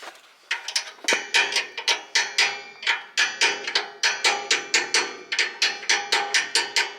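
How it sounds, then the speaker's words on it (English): A trailer wheel bearing is tapped onto its shaft with a quick run of sharp metallic knocks, about three or four per second in a steady rhythm, close and clear over a quiet background with no talk. "We're just going to tap this into place."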